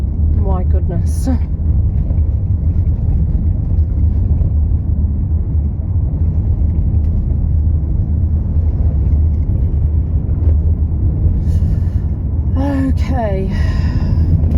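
Steady low road rumble of a car driving through the Moroccan interior near Essaouira, continuous and close throughout, with brief voices and exclamations breaking in near the start and again toward the end.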